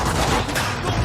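Rapid gunshots crack in quick succession during Quantum Break gameplay, a dense, loud burst of fire filling the whole brief moment.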